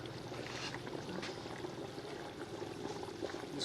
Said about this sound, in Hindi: पानी हमारा उबल चुका है। अब इस मौके पे हम इसमें चावल शामिल करने लगे हैं।